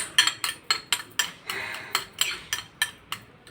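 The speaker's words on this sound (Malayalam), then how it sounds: "ഇത് രണ്ടും കൂടെ ഒന്ന് മിക്സ് ചെയ്യാം" Vaseline cream mixture stirred by hand in a bowl: a utensil scrapes and clinks against the sides in roughly a dozen quick, regular strokes, close and moderately loud with no talking.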